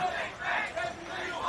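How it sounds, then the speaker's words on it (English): Australian rules football crowd at a QAFL match between Palm Beach Currumbin and Labrador roaring in a sustained, swelling cheer from the stands, loud and continuous with surging peaks. "Have a listen to the crowd."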